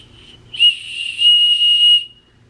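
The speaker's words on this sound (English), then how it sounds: "Oh, but the whistle worked, okay?" A small whistle hanging on a long jewelry chain is blown, giving one shrill, piercing tone about a second and a half long, loud and close, with a brief breathy lead-in and a short quieter whistle just before it.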